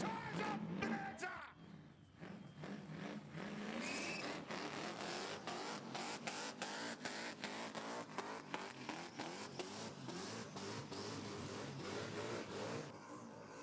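A car doing a burnout at a Burnanza event, engine revving hard in sustained rising and falling bursts, heard at a distance with crowd noise.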